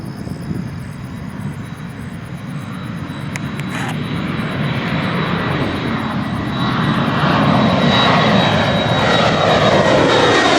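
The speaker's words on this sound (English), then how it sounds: "ERJ-175 heading off to Chicago." An Embraer ERJ-175 jet airliner takes off from Green Bay airport, its engines a steady, loud roar that builds gradually as it climbs, heard alone with no talking.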